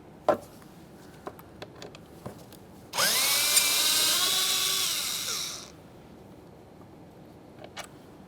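A power tool fitted with a 7mm socket runs in one sustained burst of about three seconds, removing a door check mounting bolt on a 2015-2020 Ford F-150, its whine dropping in pitch as it slows, with quiet clicks of handling before and after.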